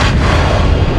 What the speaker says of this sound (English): You gotta love those little anime style explosions and whatnot.